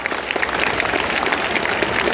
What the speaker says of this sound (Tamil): நாம் ஒரு நல்ல கைத்தட்டல் தருவோம்